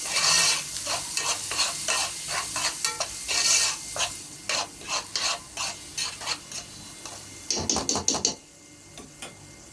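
Onion fries with tomato in a pan, a busy sizzle under repeated rhythmic scraping stirs, about a dozen strokes, ending in a quick flurry of scrapes before falling quiet.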